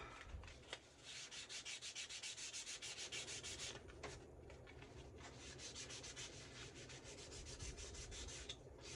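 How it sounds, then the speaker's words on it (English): Hand rubbing of a glossy surface to rough it up and take off the shine: quiet, rhythmic back-and-forth scrubbing strokes that are steady and close, then loosen into slower, uneven rubs. "I'm just rubbing it like that. Just get some of that gloss off."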